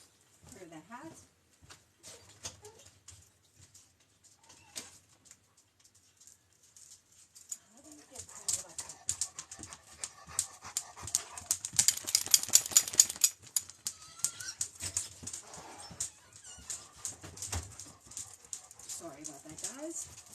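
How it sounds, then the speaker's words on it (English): An indoor dog barking and whining while someone crochets a bucket hat: scattered yelps and whimpers at the start and end, with a busier stretch of sharp sounds and clattering in the middle, mixed with nearby talking. "let the barking dog in"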